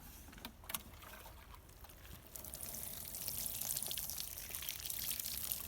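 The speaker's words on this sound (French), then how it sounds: "on arrose." Water poured onto newly planted wild strawberries in a garden, a soft trickle that grows into a steadier splashing flow over the soil, close but quiet.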